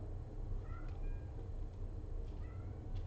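A pet cat named Fitz meows from outside, several short, fairly faint calls over a steady background hum, heard from a distance with no talking.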